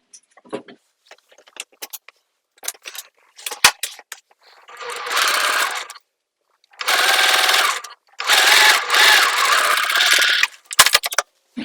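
A sewing machine stitching shut the opening of a cross-body sling bag, running in several close bursts of rapid needle chatter separated by short pauses, clicks and fabric handling.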